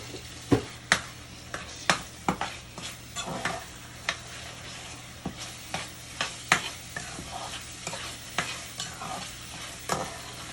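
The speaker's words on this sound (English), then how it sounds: "Just going to cook the gandules in the sofrito." Canned gandules, drained, cooking in sofrito while being stirred, with a steady sizzle beneath repeated sharp scrapes and knocks of the spoon against the pot, close by and with no talking.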